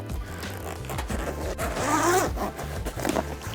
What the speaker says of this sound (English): You will then take your zipper and go ahead and start unzipping your awning.